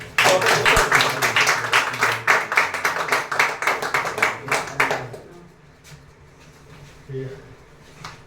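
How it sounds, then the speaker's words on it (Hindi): An audience at a career event breaks into hearty applause, a dense burst of clapping for about five seconds that then fades out, leaving quieter room sound with faint voices. "ओके, एक जोरदार ताली।"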